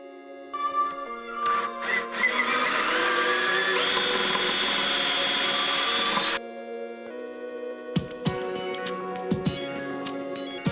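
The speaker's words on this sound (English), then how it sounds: "I screw that piece down with some countersunk wood screws." A power drill driving countersunk wood screws into a wooden piece of an under-sink trash can slider, loud whirring bursts starting and stopping, then several short clicks and knocks, no talk.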